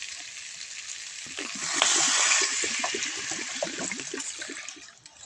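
Water poured into a hot cooking pan over frying green chilli paste, a rushing hiss and sizzle that swells after a second or two, then settles into a bubbling simmer.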